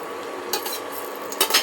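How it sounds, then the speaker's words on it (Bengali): Homemade dhoka lentil cakes frying in a pan and being flipped, with a few short metal-utensil scrapes and clinks over a steady soft sizzle, close by. "এবার আমি ধোকাগুলোকে উল্টে দেব, উল্টে অন্য পাঁচটাকেও ভাজবো।"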